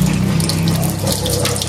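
Tap water gushes steadily at close range, a strong continuous splashing flow that holds even throughout.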